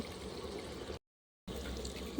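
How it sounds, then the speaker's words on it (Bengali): Water is poured from a bowl into chicken curry simmering in a clay pot over an earthen stove, a steady close splashing stream that cuts off abruptly partway through and then resumes. "এবার আমি অল্প করে পানি দেব"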